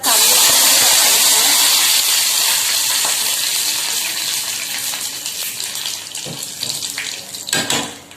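About two and a half cups of water are poured into a hot pan for rava upma. A loud rushing gush with some hissing steam starts strong, then tapers off into lighter splashes and drips.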